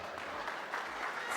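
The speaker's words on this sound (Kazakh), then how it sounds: "Не деген шапалақ" Brief burst of applause from a wedding crowd, a close, even patter of many hands clapping.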